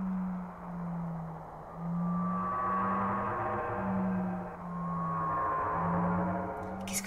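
The planet's cry from the Final Fantasy VII video game: a low, pulsing, whale-like moan with long, wavering tonal wails rising over it, eerie and sustained.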